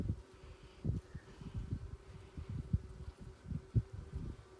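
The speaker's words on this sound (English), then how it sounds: "There are some bees emerging here as well" Honeybees buzz softly at an open hive in a bee yard, a low, uneven drone with close, fluttering bursts as individual bees pass near.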